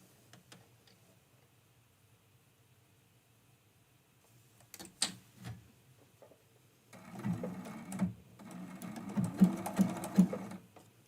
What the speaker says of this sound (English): And then back stitch to the edge and then stitch right over where we started.